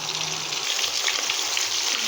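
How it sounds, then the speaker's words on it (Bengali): Fish head frying in plenty of oil for a Bengali pui shak dish, a steady dense sizzle and crackle running close and continuous throughout, with no voices. "বেশি করে তেল দিয়ে নিয়ে আমি ভেজে নিচ্ছি লাল লাল করে"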